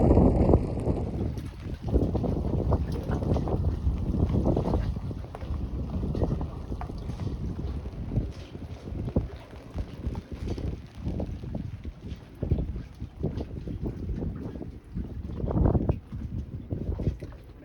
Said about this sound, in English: The wind started picking up around 4 a.m. this morning.